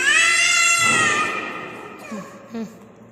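A cat lets out one loud, drawn-out meow close by, then a couple of short, faint sounds follow in a quiet room.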